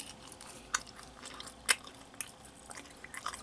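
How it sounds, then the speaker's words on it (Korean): Someone chews a small fried seafood fish-cake croquette with squid and surimi from a convenience store, its over-fried, rubbery batter giving soft, moist chewing with a few sharp crunchy clicks, close up and with no talking. "무슨 고무 씹는 것 같아."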